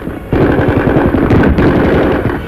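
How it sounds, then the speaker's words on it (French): Rapid, loud bursts of gunfire crackle continuously during the 1944 Paris uprising, a dense rattling volley like automatic weapons firing close by, with heavy low rumble underneath. "Soudain, des coups de feu."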